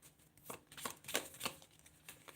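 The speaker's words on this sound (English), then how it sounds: "They're pretty hard to shuffle, so I want to make sure we're getting the right cards." Tarot cards being shuffled produce a series of soft, papery riffling flicks in quick irregular bursts, close and fairly faint, with no talking.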